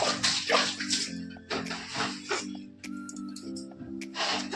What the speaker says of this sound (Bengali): জল দিয়ে ভিজিয়ে রেখে দেবো